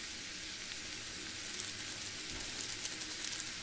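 Spiced vegetables with turmeric and salt sizzling steadily in a hot pan as they are stirred, a constant hiss with soft scraping underneath.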